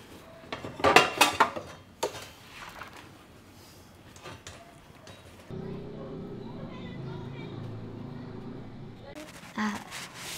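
Dishes, pots and cutlery being washed, with intermittent clinks and clatter early on, then a steady run of water and scraping in the background; voices talk over the first few seconds.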